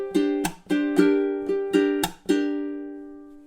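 A measure of spooky ukulele strumming etude with muted ghost-note chunks: about seven quick, sharp strums in a lilting rhythm, the last chord left ringing and fading, close and alone.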